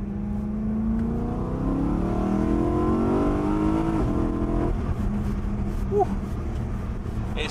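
BMW M3 engine revs hard through rising pitch sweeps, a high-strung, revvy sound heard from inside the car while driving, loud and steady, with a brief shift in tone partway.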